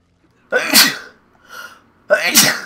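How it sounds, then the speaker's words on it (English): Two loud sneezes from a person playing Uncharted: Drake's Fortune, blamed on pollen, with a softer breathy sound between them; close and clear, no speech. "I'm sorry with the sneezing if it's too loud."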